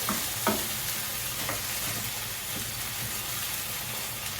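Canned tomatoes stirred round in a frying pan, a close, dense sizzle that hisses steadily throughout, with a few soft spoon knocks near the start.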